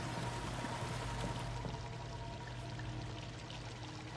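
Water pours out in the horror game Vampr, a steady, even rushing splash with no breaks that holds at moderate loudness over a faint low hum.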